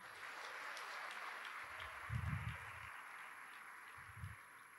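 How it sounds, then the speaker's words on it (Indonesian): Graduates and guests clap in a large hall at a Padjadjaran University graduation ceremony, a soft, distant spread of applause that stays faint, with a couple of low thumps on the microphone. "Coba tepuk tangan untuk yang mendapat predikat pujian."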